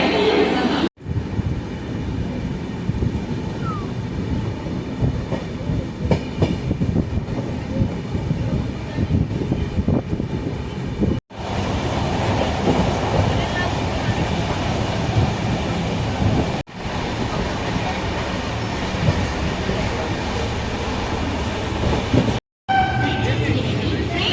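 The Mumbai-Coimbatore Kurla Express passenger train rumbles steadily along the tracks, a loud continuous roar with rhythmic clatter, broken by a few brief drops and a short gap near the end.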